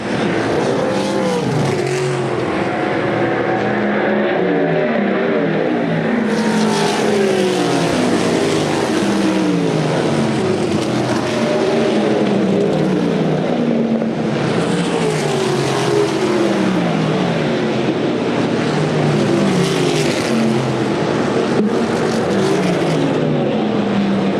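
USAC Silver Crown race cars lap the dirt track at DuQuoin, Illinois, during the Ted Horn 100, engines roaring loud and continuous with repeated rising and falling pitch sweeps as cars pass in close succession.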